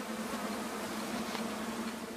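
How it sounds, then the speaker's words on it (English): Honey bees at a hive give off a steady, dense hum with a low drone, continuous and close for the whole stretch. "The bees' tiny bodies vibrate back and forth,"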